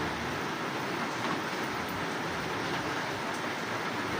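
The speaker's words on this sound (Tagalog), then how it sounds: "Grabe ang ulan guys." Heavy rain pours down in a steady, dense hiss with no letup, fairly distant and even throughout, with no voices.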